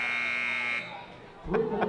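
At a boys' high school basketball game, a loud, sustained electronic buzzer sounds to end the first quarter, cutting off abruptly before a voice starts talking.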